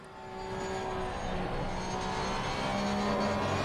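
A GT3 race car engine drones steadily at Laguna Seca in a racing game, a sustained loud tone with a slight rise in pitch as the car accelerates.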